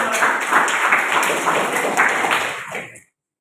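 A class of students claps together in a classroom, a brisk burst of many hands applauding at close range that stops abruptly after about three seconds.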